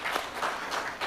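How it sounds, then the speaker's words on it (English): Applause from a conference audience, a steady wash of clapping hands across the whole short stretch, moderately loud and without voices over it. "I think it deserves a big round of applause"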